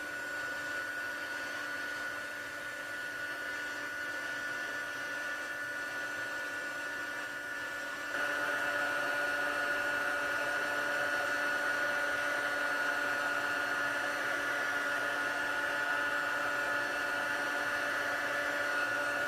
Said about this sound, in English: Pop my heat tool away